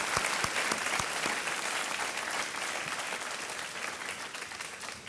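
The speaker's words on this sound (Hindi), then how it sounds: "एक बार तालियों के साथ इनका स्वागत हो जाए।" A game show studio audience claps enthusiastically, a dense burst of applause that starts strong and gradually softens over several seconds.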